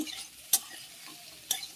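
Radish fries quietly in a pan with a soft, constant sizzle, broken by two sharp scrapes of stirring about a second apart.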